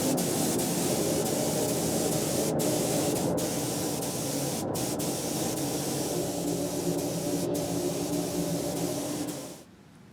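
A spray gun lays down clear coat on a sunburst-finished guitar body, a steady, close, even hiss that runs without a break for about nine seconds and then cuts off into quiet.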